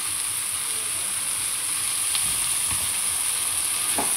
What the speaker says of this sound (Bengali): এবার আমি দিয়ে দিচ্ছি বেটে রাখা মশলা।